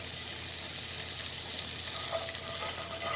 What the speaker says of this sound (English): Just wait till all that butter is melted.